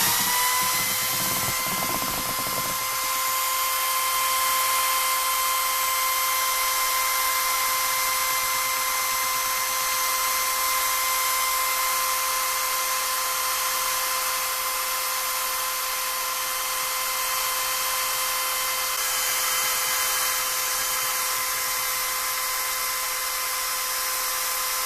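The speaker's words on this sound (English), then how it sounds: "Turn on the drill." A power drill spins a whip stick inside a fermenter to aerate homebrew wort, producing a steady, high motor whine that runs unbroken for the whole stretch after a brief rattly start.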